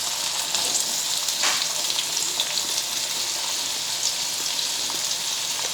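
Chopped onion fries in hot oil with mustard seeds and cumin, a loud, dense, continuous sizzle with small crackles and pops, heard close up with no voices.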